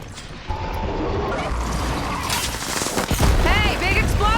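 In Horizon Forbidden West, drones unleash a sustained barrage of rapid gunfire that builds to a heavy blast, with a voice breaking in near the end.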